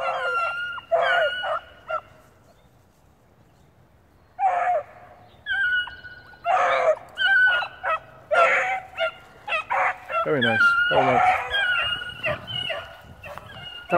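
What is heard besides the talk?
black dog barking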